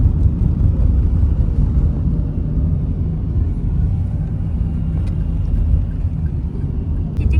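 Inside a Nissan car cruising along a smooth road near Colombo: a loud, steady low rumble of road and engine noise that continues without change, with occasional faint ticks and no talking.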